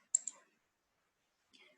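Two sharp mouse clicks in quick succession, then silence and a softer click near the end, close and crisp while installing Eclipse on a computer.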